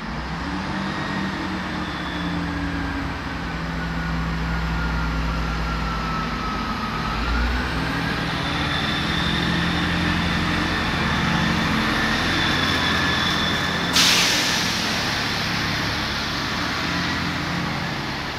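Class 158 diesel unit 158852 at Lincoln Central station, a continuous loud engine drone with a slowly shifting whine, heard steadily throughout at close range.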